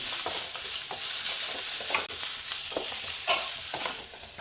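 Garlic cloves for mutton sukka sizzle steadily in hot oil while a spoon stirs them, with scraping strokes recurring every half second or so over a constant loud frying hiss, no voices.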